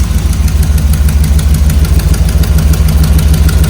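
A Vortec 350 V8 on a swapped carburetor idles loudly, with exhaust leaks adding a steady, rhythmic ticking pulse over the low engine rumble, with no voices.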